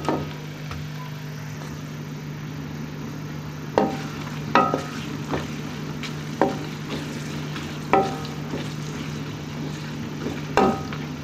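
Onions frying in hot ghee over a medium flame, a steady background sizzle broken by a few sharp clinks and scrapes of a stirring utensil, nearby and without speech.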